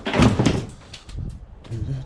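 Washing machine door being shut during street scrapping, a couple of dull thuds and clunks at close range, mixed with a person talking.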